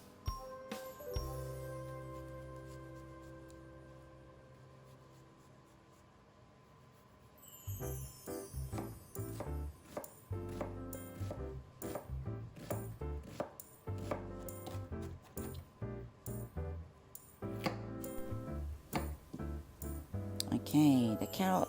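Japanese chef style prep for stuffed cabbage rolls with bacon: a knife chops vegetables such as carrot on a board in fast, steady runs of crisp close taps, starting after a quiet opening and continuing to the end.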